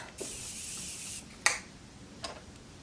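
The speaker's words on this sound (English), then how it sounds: "Now I'm just going to set this all into place with my Morphe Continuous Setting Mist." Morphe Continuous Setting Mist is sprayed onto a face in a long steady hiss, followed by a click of the pump and a second shorter spritz, close and fairly quiet.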